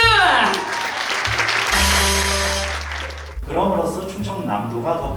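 An audience applauds at a Korean youth policy proposal contest, a burst of clapping that swells and then tapers, with a loud amplified voice and tonal sounds over it.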